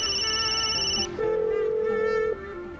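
A telephone rings indoors with an electronic repeating tone that shifts pitch partway through, moderately quiet, left unanswered, with no one speaking.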